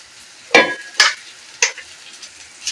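Rice going into a pot of boiling meat and water for biryani, three or four sharp splashy, sizzling bursts in irregular succession, close and fairly loud with quiet gaps between.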